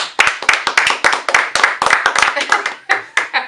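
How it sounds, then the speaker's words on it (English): A few people clap in a radio studio with close, sharp, uneven hand claps that come in quick irregular bursts, loud and near. "y'all clap it up for AR Skip, man."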